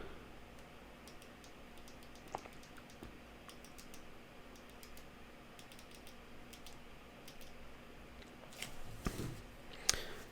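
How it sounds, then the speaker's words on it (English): Soft keyboard typing while entering a password to unlock a Ledger hardware wallet, a quiet scatter of light key clicks in a hushed room, ending with a couple of louder taps. "we have to type in our password."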